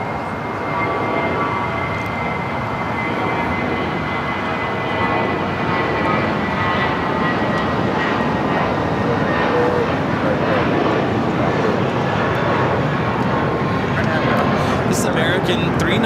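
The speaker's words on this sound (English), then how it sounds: "American 319 taking off to St. Louis on the, flight 1240" An American Airlines Airbus A319 takes off at LAX, its engine roar broad, loud and sustained throughout, with voices talking over it.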